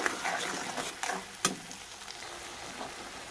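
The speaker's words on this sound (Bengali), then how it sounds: "এবার আমি এর মধ্যে মিক্সির জারটা ধুয়ে একটু জল দিয়ে দিলাম।" Rinse water from a mixer jar poured into a mustard fish curry in a pan, a soft sizzle and bubbling with a few light clinks and splashes, fairly quiet.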